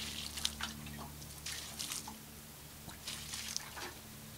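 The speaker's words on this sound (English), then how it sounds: "continue sprinkling water until it stops to smoke" Water sprinkled onto hot ashes gives faint, scattered hissing and sizzling bursts with soft drips, recurring in short spurts over quiet background noise.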